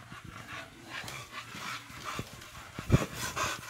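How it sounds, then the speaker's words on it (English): A German Shepherd guard dog, all black, pants and huffs nearby with a sharp louder burst near the end, over a low background hum. "That's my guard, dog."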